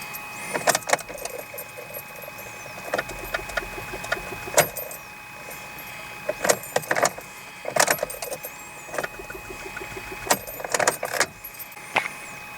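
A 2016 Kia Soul 1.6 with a starter problem fails to start: a repeated series of sharp clicks and short bursts from the key turning, nearby, with quiet pauses between attempts and no engine catching.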